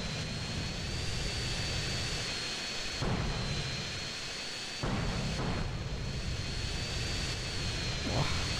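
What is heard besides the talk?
jet aircraft flying by in the video game GTA San Andreas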